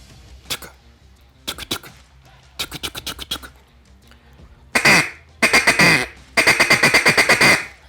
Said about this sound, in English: So now we're going to take the basic tuka and start to build a rolling feed call.